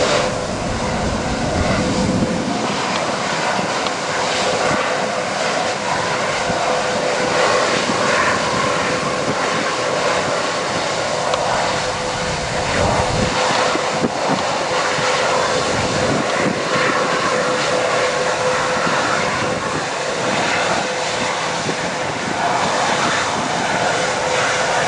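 A fixed-wing aircraft lands at London Stansted Airport, its steady jet engine roar sustained loud and broad throughout with a faint whine layered in, no talk.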